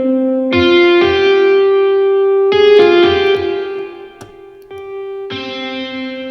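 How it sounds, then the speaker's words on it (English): Distorted, heavily processed electric tones from three distortion effects in Soundtrap ring out in sustained bursts, cutting in and out as effects switch on and off, with reverberant tails. "So now I have all 3 distortion effects set up."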